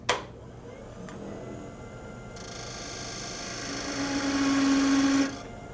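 A wood lathe turns an end-grain lidded box. A steady whirring whine builds in intensity, then cuts off abruptly, with no voices.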